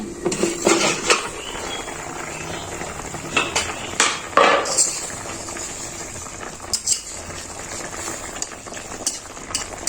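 Metal pot clatter while cooking a small puti fish curry, scattered clinks and scrapes of utensils and a lid against cookware, some sharp knocks, over faint sizzling.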